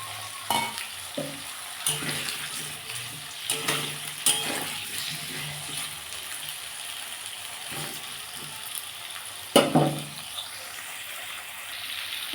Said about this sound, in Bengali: আলুটাকে ওটাকে আমি লাল লাল করে ভাজবো এসে আমি পেঁয়াজটাও দিয়ে দেবো একসাথে ভেজে নেবো